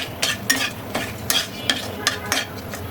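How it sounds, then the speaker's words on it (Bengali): Bay leaves and dried red chilies frying in hot oil in a heated kadai, a faint sizzle under repeated sharp scrapes and taps of a spoon against the pan at an uneven rhythm. "ফোড়ন দেওয়ার জন্য কড়াই গরম হয়ে গেছে, দিয়ে দেবো তেল, তেজপাতা, শুকনো মরিচ"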